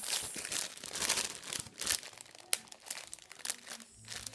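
Fourteen-count Opal cross-stitch fabric is folded up close by, giving a string of crisp crinkling and rustling bursts with a sharper snap partway through and no talking.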